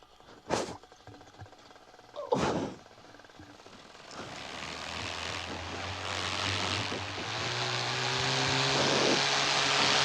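Powered paraglider trike engine taxiing on the ground, a propeller drone that builds steadily louder and rougher, preceded by a couple of sharp knocks and clatters.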